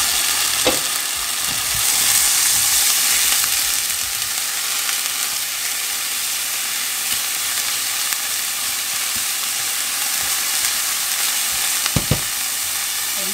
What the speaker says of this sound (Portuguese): Aqui na panela eu já coloquei o alho e a cebola.